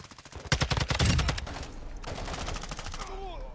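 Video game gunfire in DMZ, several rapid bursts of close automatic shots with a pause between them, over steady background noise and a faint electronic tone near the end.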